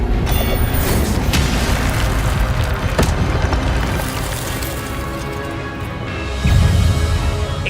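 Fire spell cast in Hogwarts Legacy: a loud, continuous roaring rumble with booming impacts and crackling bursts, swelling again near the end.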